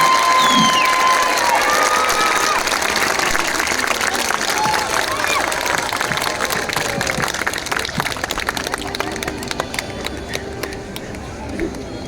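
Gathering at an ashram welcoming Swami Anand Arun with loud applause and cheering, a busy crowd of clapping hands mixed with voices and shouts, sustained and fairly close for the whole stretch.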